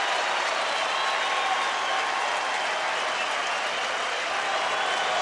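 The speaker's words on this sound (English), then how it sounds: "he is getting an ovation from the enemy crowd" A baseball crowd in an Atlanta ballpark gives a sustained standing ovation, a steady wash of applause and cheering that holds at an even, dense level from start to finish.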